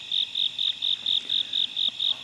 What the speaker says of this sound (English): Now, you're going to hear the crickets.